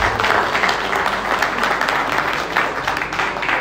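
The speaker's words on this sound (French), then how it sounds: "J'aimerais qu'on l'applaudisse très très fort." Steady applause from a crowd at a Paris press conference, dense and continuous clapping that holds at an even level throughout.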